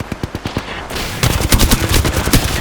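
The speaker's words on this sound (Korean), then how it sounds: "적에게 사격 개시." Automatic weapon fire in the battle royale video game Apex Legends, starting as a few spaced shots and then becoming a loud, dense, rapid burst of gunfire at close range, with no talking.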